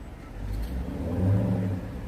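A dilapidated old car with bad brakes drives by with a low rumbling engine whir that swells briefly and fades, nearby and without talk.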